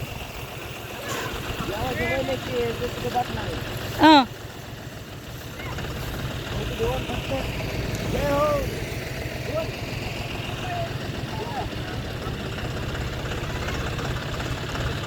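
A tractor engine runs steadily at idle with a low, continuous rumble throughout, while people talk nearby during sugarcane loading.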